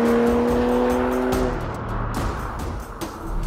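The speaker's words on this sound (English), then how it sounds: "The inline sixes from BMW are perfectly balanced. You can rev them to the moon, and this car is no exception." A BMW 335is coupe's turbocharged inline-six revs near and loud, with rising engine tones that break off after about a second and a half into a rougher, steady engine roar.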